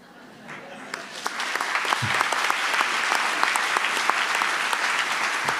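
Applause rises from the audience at a national psychiatry nursing congress after a talk, building from quiet into a loud, dense, sustained clatter of many hands, with a brief voice near the start.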